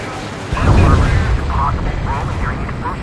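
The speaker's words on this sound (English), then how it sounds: "We're only hearing explosion echoes." Deep muffled booms and rumbling echo from an underwater explosion in the Ace Combat 7 flight combat game, a sustained low roar with game sound and voices layered over it.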